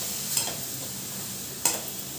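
Grated carrot being stirred in ghee in a wok for carrot halwa: a soft continuous sizzle with two sharp scraping strokes of the spoon, close and otherwise without talk.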